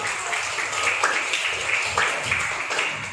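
Applause from a classroom audience after student presentations, a steady wash of clapping filling the whole stretch at moderate loudness with no voice over it.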